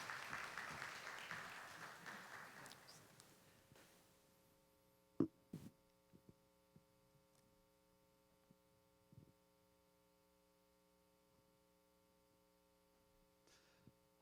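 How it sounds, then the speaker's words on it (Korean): A church congregation at a Korean Sunday worship service in Flower Mound claps to welcome the pastor, a brief patter of applause fading out and giving way to scattered faint taps over a steady electrical hum. "우리 목사님 나오실 때 환영하는 의미에서 박수 한번 드리고"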